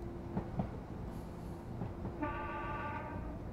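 Horn of a simulated Pacer train on Japan's Wakayama and Sakurai Line in Train Simulator 2021, a sustained tonal blare starting partway in over the steady rolling rumble of the train.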